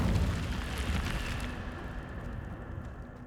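Incendio fire spell cast in Hogwarts Legacy, a loud broadband fiery burst and roar opening strongly, then settling into a sustained crackling rumble that slowly fades over a few seconds, with no talk.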